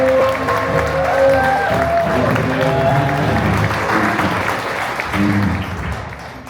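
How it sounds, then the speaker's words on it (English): An audience applauds after a Navajo hoop dance performance in Page, Arizona, with sustained clapping and some cheering mixed with tonal music or voices underneath, easing slightly toward the end. "Let's give Talia another round of applause"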